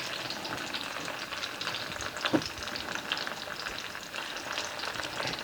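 Store-bought okra frying in a pan, a steady soft sizzle and crackle throughout with a brief stir or scrape midway, no talking.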